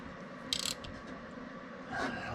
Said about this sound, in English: Alright, so I got a socket here now.